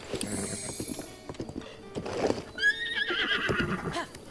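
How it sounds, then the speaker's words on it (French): A horse whinnies in The Legend of Zelda: Breath of the Wild, a clear rising and falling neigh in the second half, with hoof clip-clops and game sounds around it. "Voilà, on a un beau cheval."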